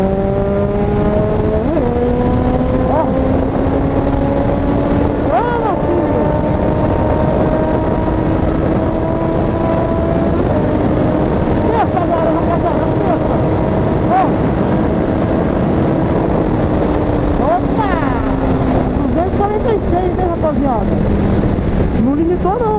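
Honda CB 1000R motorcycle fitted with a K&N filter and a titanium GRS exhaust, running at top speed near 200 km/h, a loud, close, sustained engine roar with rising pitch and gear changes, plus roaring wind.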